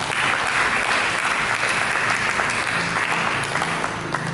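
A church congregation bursts into applause, a dense, continuous wash of many hands clapping at steady loudness throughout, with no talk over it.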